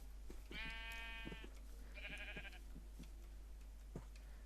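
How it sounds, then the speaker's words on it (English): Sheep in Minecraft giving two clear bleats, one long wavering cry followed by a shorter one, with soft clicks and taps around them over a low steady hum. "I can breed up these guys as well, so we're going to have 2 baby sheep"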